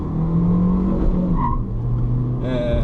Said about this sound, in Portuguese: Você ouve os pneus deslizando